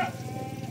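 A goat on an Indonesian livestock farm gives one short, close bleat with a wavering voice.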